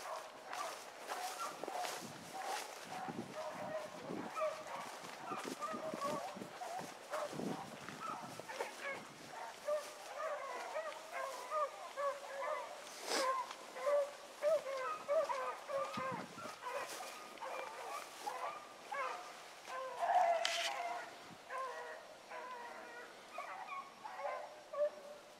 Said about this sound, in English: That's that Amos dog, I think, that big brawl mouth one.